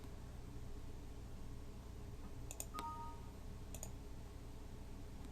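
A computer mouse clicks on buttons of the XAMPP control panel: a few quick, faint clicks in a small cluster, over steady background hiss with no talking.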